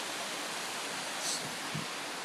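Waterfalls at Buttermilk Falls State Park pour as a steady, even roar of rushing water, continuous and unbroken throughout.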